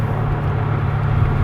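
A C4 Corvette engine drones steadily from inside the car during a downshift, a loud, even hum heard alone.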